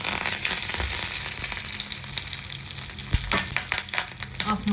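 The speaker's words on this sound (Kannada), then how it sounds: "ಸಾಸಿವೆ ಚೀಟಪಟ ಅಂದಿದೆ ನೋಡಿ. ಜೀರಿಗೆ, ಒಣಮೆಣಸಿನ್ಕಾಯಿ ಮತ್ತು ಕರಿಬೇವಿನ ಸೊಪ್ಪು ಇಷ್ಟನ್ನು ಒಟ್ಟಿಗೆ ಹಾಕ್ತಾಯಿದ್ದೀನಿ" Loud, continuous sizzling of mustard seeds, cumin, dried red chillies and curry leaves spluttering in hot oil, with sharp pops and crackles scattered throughout.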